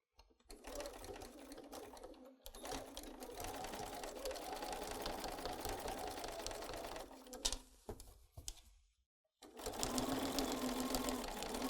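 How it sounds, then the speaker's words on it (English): A sewing machine stitching along the edge of a fabric hanging towel, a fast continuous mechanical whir running for several seconds, briefly stopping, then starting again, close and clear. "let's go take that to the sewing machine and we'll make that right now"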